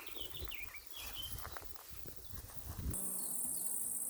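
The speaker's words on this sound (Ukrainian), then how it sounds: "Бджолки гудуть." Bees buzzing among wildflowers at the bottom of a ravine, a faint, thin hum under soft rustling and outdoor ambience, with a brighter high insect-like tone joining in the last second.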